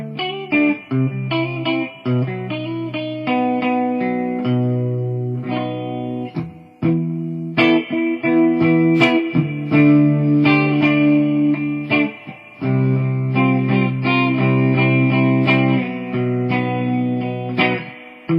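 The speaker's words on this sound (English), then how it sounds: "show you what it sounds like with the amp's reverb" Electric guitar played through a Peavey ValveKing amp with its spring reverb, chords and single notes ringing out with a washy tail, steady and fairly loud, no voices.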